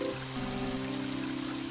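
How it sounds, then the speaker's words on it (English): Rain beginning to fall in the video game Mother 3, a steady hissing pour that runs under sustained tonal game music for the whole moment. "And it's starting to rain."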